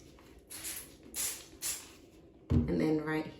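A few short hissing spray bursts from a bottle, spaced apart, followed by someone starting to talk close by.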